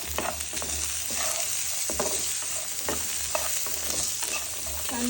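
Green chickpeas frying with garam masala in a pan, continuous sizzling punctuated by repeated scraping strokes of a spoon stirring the dry mixture, close and steady with no talking.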